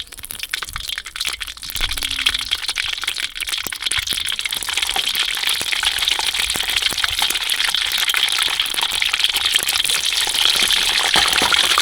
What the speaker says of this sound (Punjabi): ਪਾਣੀ ਦਾ ਟਿੱਕਾ ਵੱਜ ਗਿਆ ਢੱਕਿਆ ਹੋਇਆ ਸੀ ਨਾ ਮੁੜਕਾ ਆ ਗਿਆ ਸੀਗਾ